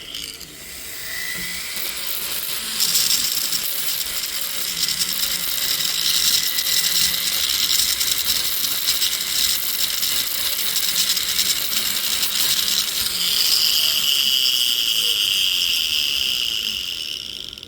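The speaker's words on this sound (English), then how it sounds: "I don't really want to grind on that a little anymore" High-pitched whine of a rotary tool grinding on a ring, a steady close buzzing whir that holds for most of the stretch with slight shifts in pitch as it bites the metal.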